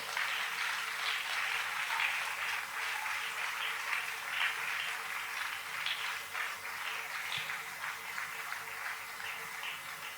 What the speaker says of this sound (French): nous acclamons le Seigneur pour les recevoir.